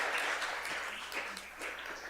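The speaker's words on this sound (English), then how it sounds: "please let's give another applause to our invited speaker." A conference audience applauds an invited speaker at a linguistics meeting, a moderate wash of many hands clapping steadily for about two seconds.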